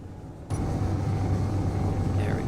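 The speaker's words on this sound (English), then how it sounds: "Level out our plane." A steady plane engine drone in the game Space Engineers swells in abruptly and then holds a continuous, loud rumble with no voice over it.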